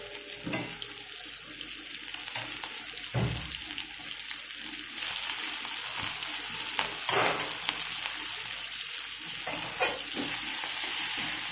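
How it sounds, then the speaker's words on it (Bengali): Onions and shrimp fry in a pan with a continuous, moderately loud sizzle, punctuated by occasional clanks and scrapes of stirring. "এটাকে এবারে আস্তে আস্তে ভাজা করব।"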